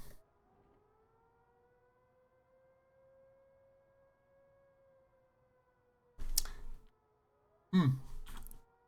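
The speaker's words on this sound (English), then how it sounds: "Oh, sirens." Sirens in a driving game set on a route from Moscow to Kuban: faint wavering siren tones drift in the background, then two loud abrupt bursts of noise cut in near the end.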